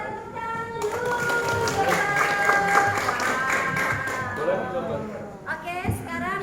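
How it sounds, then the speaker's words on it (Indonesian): An audience at an elementary school presentation gives a round of applause, moderate and somewhat distant, mixed with chatter and voices throughout, tapering off near the end. "Minta tepuk tangan dulu."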